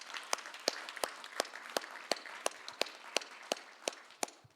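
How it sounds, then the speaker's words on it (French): Sparse clapping at an agricultural panel discussion, a handful of people in a small room giving sharp, distinct claps in a loose, fairly regular rhythm, fairly quiet overall. "Alors, une bonne main d'applaudissements pour Félix."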